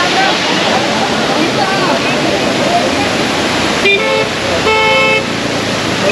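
Cars sit in a monsoon traffic jam on the road near Amboli, with dense, roaring noise, likely from nearby waterfall water, and a couple of horn honks near the end; a voice talks faintly in the background.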